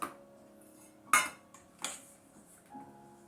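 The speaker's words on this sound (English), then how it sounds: "So I'm going to stir in these ingredients." Eggs and soft margarine being stirred into cornbread batter in a bowl: a few brief scraping clinks and taps of a utensil against the dish, quiet and close, alone over faint background music.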